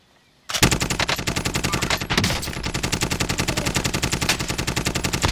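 Gunfire from a video game, close and loud: rapid, evenly spaced automatic bursts rattle almost without pause after a brief silent start.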